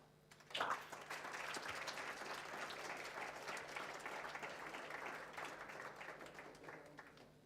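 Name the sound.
audience applause for an award winner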